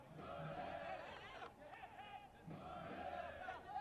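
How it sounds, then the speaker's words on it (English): A soccer supporters' group at a Charlotte Independence match chants in unison, picked up from a distance by crowd microphones: rhythmic, drawn-out group shouts rising and falling in repeated phrases over general stadium crowd noise. "And the Jacks militia with their patented hip hip."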